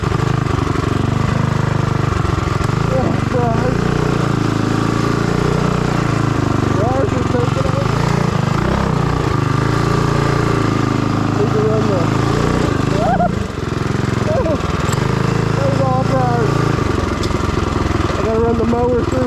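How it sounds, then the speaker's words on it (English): A 227cc stroker Predator Ghost engine, apparently a minibike, runs loud and close on rough trails, with a constant rough mid-pitched drone, rising and falling revs and occasional rattles. Voices can be heard over the engine. "Run the mower through here."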